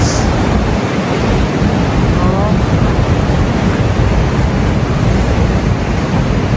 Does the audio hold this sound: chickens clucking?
no